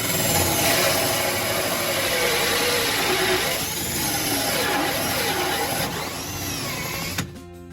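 A power tool cuts through the wooden floor of a van during a camper build, a loud steady whine held almost unbroken for several seconds before stopping abruptly near the end.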